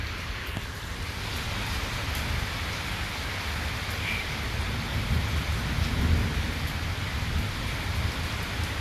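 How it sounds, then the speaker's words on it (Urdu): Heavy torrential rain during a cloudburst at Bahria Town, Lahore, a dense, steady roar of downpour with low thunder rumbling underneath, swelling slightly louder around the middle and holding constant throughout. "جی ماشاءاللہ تیز بارش ہے"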